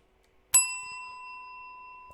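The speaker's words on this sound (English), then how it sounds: "There'll be a lot of bells in this one." Bell sound effect: a single bright ding struck once after a short silence, its clear ringing tone decaying slowly and sustaining to the end.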